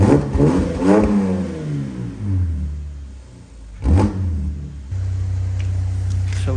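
A Mercedes-Benz engine revs in short bursts, rising and falling twice with a quieter gap between, then settles into a steady idle hum.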